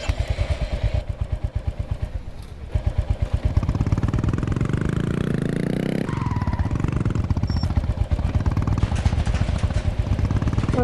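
A motorcycle engine runs loud and close with a steady rapid thumping idle, revving up and settling over the whole stretch.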